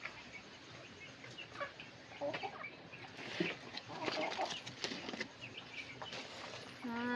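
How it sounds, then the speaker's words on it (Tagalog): Native chickens cluck beneath a piglet crib converted into a pen on a rural provincial farm, giving soft scattered clucks with a few brief wing flaps throughout. "nag-aantay rin yung mga native na manok sa ilalim"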